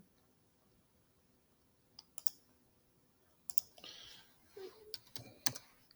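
Sparse clicks of a computer keyboard, a few isolated taps then a short quiet cluster of keystrokes, faint and close in a quiet room.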